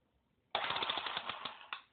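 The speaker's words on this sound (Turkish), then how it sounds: "Çok güzel bir yeni silah aldım" Toy machine gun firing a continuous rapid burst of loud rattling shots for over a second, then a short second burst, close up with no talking.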